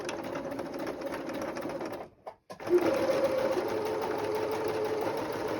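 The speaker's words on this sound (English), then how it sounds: "then I'm going to zigzag the edges so they don't fray" A sewing machine runs a zigzag stitch along fabric edges to keep them from fraying, a steady close mechanical whir that stops briefly partway and then resumes.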